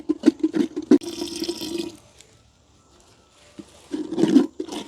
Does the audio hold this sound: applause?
no